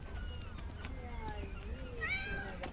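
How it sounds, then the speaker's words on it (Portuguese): Cats on the Italian island of Stromboli meow several times with rising and falling tones, under a steady low background and a voice talking. "Na ilha italiana de Stromboli, esses gatos estão em toda parte."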